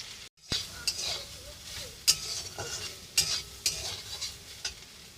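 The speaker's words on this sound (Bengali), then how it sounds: "এবার ভেজে নেব সয়াবিন" Soybean chunks frying in oil in a pan, with a soft steady sizzle broken by repeated sharp scrapes and clinks of a spatula stirring against the pan, close up.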